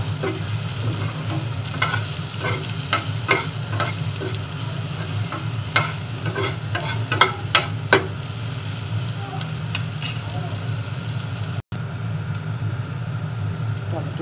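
Tomatoes and two kinds of chili frying in a pan for spicy soya bean Maggi, a constant loud sizzle with repeated spatula scrapes and clicks, a brief dropout near the end.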